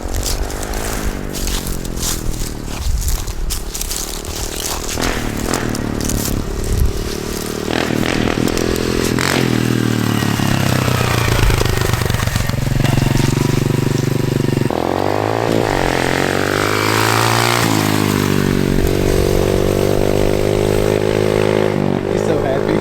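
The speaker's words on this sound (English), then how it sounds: "It sounds good. It sounds like a dirt bike now." A Honda CRF125F dirt bike with an FMF exhaust idles and revs repeatedly, its engine note rising and falling in loud, close bursts, with people talking over it.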